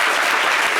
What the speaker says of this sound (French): C'est à applaudir.